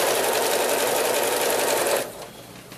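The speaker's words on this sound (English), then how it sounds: "I'm ready to sew, so I'm just sewing them right sides together" A sewing machine with a quarter-inch foot stitches quilt block fabric pieces right sides together, running as a steady, loud, continuous whir that stops abruptly near the end and leaves only a quiet room.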